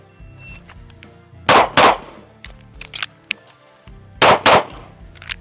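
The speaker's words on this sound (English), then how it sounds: "It definitely took a little bit of extra force of getting this magazine in there with a full 15 rounds" Full 15-round magazine pushed into a Smith & Wesson Equalizer pistol: two loud close metallic thunks, then smaller handling clicks, and another pair of hard clacks as it seats.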